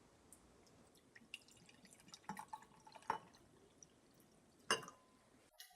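Water and buffer drip and trickle from a beaker into a gel electrophoresis chamber in a quiet lab, with a few sharp clinks and splashes standing out among soft irregular drips and no speech.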